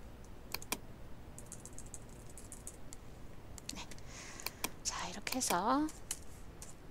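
Computer keyboard keys clicked in a few quick presses, including the Enter key, while working in Photoshop for a GTQ exam exercise; the clicks are soft and sit under a person speaking.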